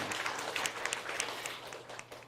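A church congregation at a Sunday service claps in encouragement for a member, a moderate wash of many hands applauding together in a hall, fading gradually toward the end.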